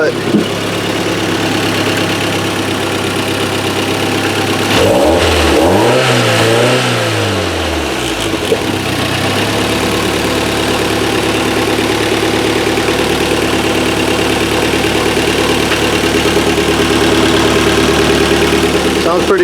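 Toyota MR2 engine running just after being installed, starting with a rev that rises and falls and then settling into a steady idle, loud and close throughout.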